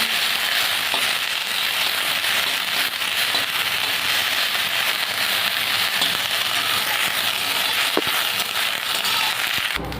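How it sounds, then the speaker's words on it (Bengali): Neem leaves fry in a little oil in a pan, producing a dense, continuous crackle and sizzle that stays steady and fairly loud for the whole stretch, with no voices. "অল্প করে তেল দিয়ে আমি নিম পাতাটা ভেজে নেব।"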